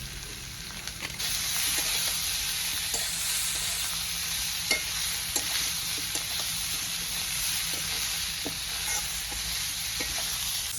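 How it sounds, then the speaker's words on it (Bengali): Ginger and cumin paste fries with chili powder in oil for a snakehead fish curry, a close, continuous sizzle broken by regular spatula scrapes and taps as it is stirred. "মশলাটা ভাজা হয়ে যাওয়ার পর এখন দিয়ে দেবো লঙ্কার গুঁড়ো"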